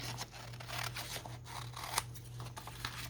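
Scissors trimming the edges of a wet acrylic-painted paper page made with a gelli plate, giving a steady run of soft crisp snips and paper rustle under a constant low electrical hum.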